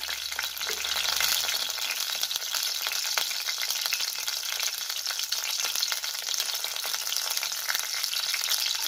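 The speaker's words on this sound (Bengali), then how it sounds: "তারপরে আমি দিচ্ছি এখন একটা তেজপাতা, একটু শুকনো লঙ্কা," A bay leaf and dried red chilli fry in hot oil for a vegetarian potato and ripe banana curry, giving a steady, close, bright sizzling hiss with light crackles throughout and no talking.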